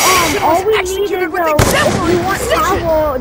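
Gunfire from shooting zombies in Black Ops 2 includes one sharp, loud shot midway, set among excited voices talking over the game.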